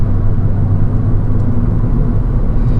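A 2013 Mini Cooper S Coupe's turbocharged engine drones steadily from inside the cabin, a low rumbling hum with a faint turbo whirring note and no talking.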